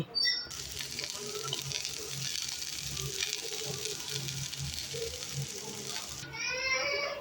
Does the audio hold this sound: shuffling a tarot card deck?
no